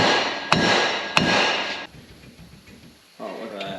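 A hammer strikes a stuck part on a 1973 VW Super Beetle, two sharp metallic hits about half a second apart ringing out over a noisy workshop background, followed by a quieter pause and more clatter.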